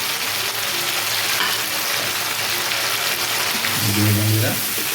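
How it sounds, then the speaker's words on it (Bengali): Tomato paste and green chilies frying in a pan, a dense steady sizzle throughout, with a brief murmur of a voice near the end. "ভালো করে এটা একটু ফ্রাই করে নেবেন আপনারা"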